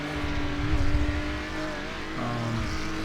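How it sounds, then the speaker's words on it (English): A race car in the V-TEC 2.4 Hour Series runs at Barber Motorsports Park, its engine a steady, loud drone throughout, swelling around the first second as it passes, then settling into a sustained roar with a pitch shift midway. "There goes our race leader by."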